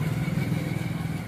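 A motorcycle engine running close by, a steady throbbing rumble as the bike is ridden up and brought to a stop for parking, no talk over it.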